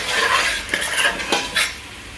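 A utensil stirs chili pepper into a pot of egusi, scraping and clinking against the metal several times, with a faint sizzle underneath and no talking.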